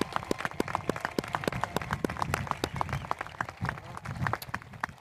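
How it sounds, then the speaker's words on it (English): An audience at a graduation ceremony claps in a performing arts venue, a burst of brisk, uneven hand claps from a modest crowd, fairly close and lasting several seconds. "Give a round of applause."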